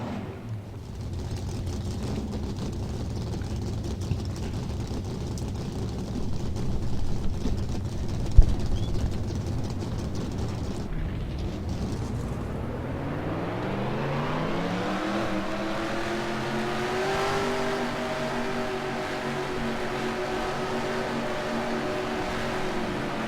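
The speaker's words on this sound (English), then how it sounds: "Drivers, start your engines." Race car engines in NASCAR Racing 2003 start up and rev together, a steady low rumble rising in pitch as the pack accelerates, continuous and fairly loud with no voices.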